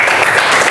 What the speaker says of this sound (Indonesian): Aplaus buat Firni.